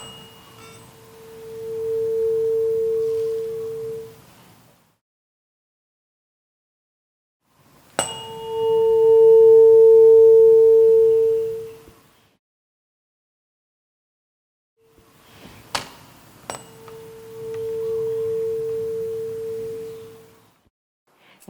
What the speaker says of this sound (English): let's sound the tuning fork and place it on top of each cylinder